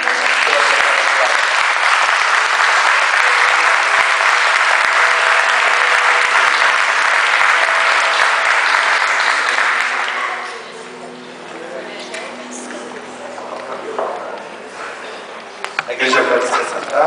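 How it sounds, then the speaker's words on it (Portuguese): A church congregation applauds together in gratitude, dense and loud for about ten seconds, then the clapping cuts off and quieter room noise and scattered movement follow. "vamos oferecer a Deus um aplauso de gratidão"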